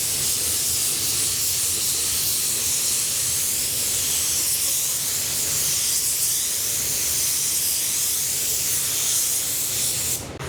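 A loud, continuous spray gun hiss at 26 PSI runs steadily throughout, a broad airy spray of paint onto an auto body panel with no pauses, cutting off abruptly at the end.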